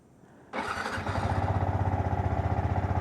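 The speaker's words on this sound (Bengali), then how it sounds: "এই আমার গাড়ি স্টার্ট হয়ে গেছে" A motorcycle engine cold-starting on an early morning: a quiet lead-in, the starter catching abruptly, then the engine settling into a steady close idle with a rapid even thump and growing loudness, no talk.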